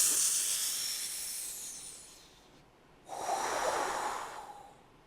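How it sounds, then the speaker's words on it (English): Slow breath drawn in through pursed lips as if through a straw, heard close and hissing for about two seconds, then after a brief pause another long airy breath, with no talking. "It's like you have a straw and you inhale the breath through the straw."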